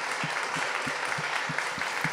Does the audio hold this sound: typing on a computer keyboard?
no